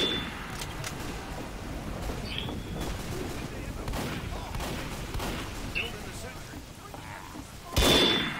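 Gunfire in the game Team Fortress 2 on the Sawmill king-of-the-hill map, a low rattling volley of shots running steadily under a speaking voice, with a sharper burst near the end.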